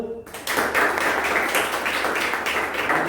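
A room of children claps for a quiz competition team at a voter-awareness quiz, close and busy, starting after a short pause and continuing evenly to the end.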